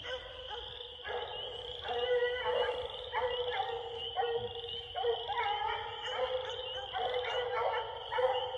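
A Bluetick Coonhound bays from a swamp about fifty yards off, its repeated rhythmic howls carrying at moderate distance over a steady high insect drone.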